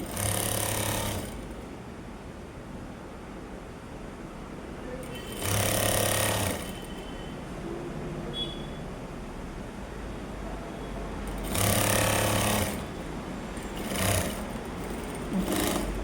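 A sewing machine stitches a trouser hem in short, loud mechanical bursts separated by longer stretches of quieter background.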